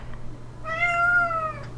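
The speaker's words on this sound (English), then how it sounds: "He's my youngest cat." A young black cat gives a single drawn-out meow, clear and close, over a low steady background hum.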